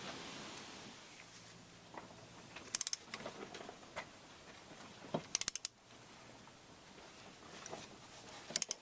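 Ratchet loosening a 12mm bolt on a power steering pump: several short bursts of rapid metallic clicking, spaced a few seconds apart, close and fairly quiet amid faint handling noises.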